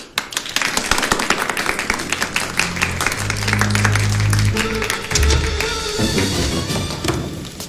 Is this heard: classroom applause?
yes